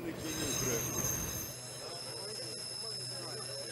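The Tren a las Nubes cloud train runs near Salta, its wheels squealing and rumbling on the rails, loudest for the first second and a half before settling into a quieter steady roll.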